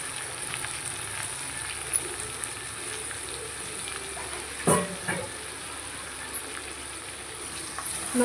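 Cleaned squid fries in oil with sautéed onion, tomato and ginger garlic paste, a soft, steady sizzle with occasional clicks of a spoon stirring the pan, one louder scrape near the middle.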